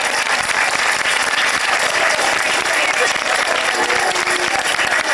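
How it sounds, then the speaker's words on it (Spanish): Warm applause at a local fiesta in Mieres honouring a queen and her maids of honour, loud dense clapping from a large crowd that holds steady throughout, with voices mixed into it. "Vamos allá, ese aplauso."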